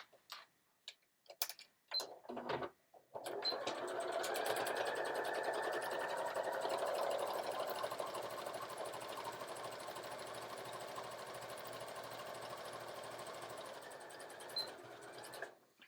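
A sewing machine stitches a Sew Together Bag, running in one long, steady burst close by after a few brief taps and handling sounds at the start.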